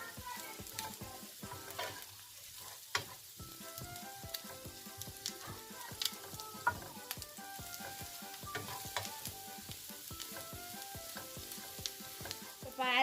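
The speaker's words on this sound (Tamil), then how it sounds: "இப்போ இந்த மிளகாய் தூள் எல்லாம் சேர்ந்து இதே எண்ணெயிலே நல்லா பொரியட்டும்." Mutton intestine with chili powder frying in oil, a close, continuous sizzle with crackling pops and repeated scraping stirs of a spoon in the pan.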